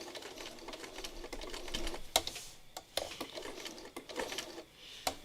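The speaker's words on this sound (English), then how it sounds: "I'm going to hopefully stitch around the dots." A home sewing machine slowly stitching around dots on fabric, its rapid mechanical needle chatter running steadily and faintly, broken by a few sharp clicks and brief pauses.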